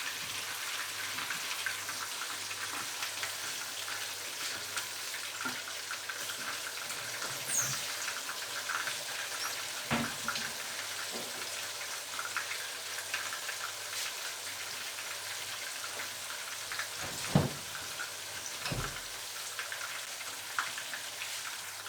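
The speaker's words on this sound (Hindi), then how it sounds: "ये मसाले सब शामिल कर देंगे और इसको अच्छी तरह भूनेंगे मसाले को।" Turmeric, white pepper and red chili fry in a pan for mutton gola kabab curry. A quiet, steady sizzle hisses throughout, broken by occasional soft clicks from stirring.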